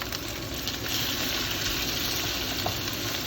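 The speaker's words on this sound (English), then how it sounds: "you want to soak up all the potatoes in the oil. Make sure the flame is high" Potatoes fry over a high flame in hot oil for spicy Indian fried potatoes, a dense, continuous close sizzle with faint stirring underneath.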